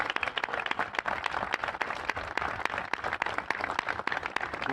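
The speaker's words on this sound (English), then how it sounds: "And one more round of applause" An audience applauds at a governor's bill-signing event for a historic tax credit, with steady, dense clapping from many hands that holds evenly throughout.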